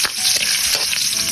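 Garlic hits hot oil in a pan for pork Bicol Express, giving a loud, dense sizzle with crackling bursts throughout, close up and with no voices.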